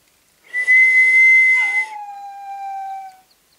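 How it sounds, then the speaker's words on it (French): A person whistles to train a dog in Nintendogs + Cats: a steady high whistled tone, then a longer tone that slides down and holds before fading, clear and close against silence. "je sais pas siffler, c'est atroce"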